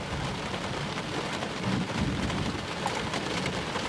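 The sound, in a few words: thunderstorm with heavy rain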